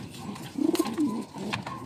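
A fancy pigeon coos close by, a quick run of soft pulsed notes followed by a longer low coo and a fainter trailing call.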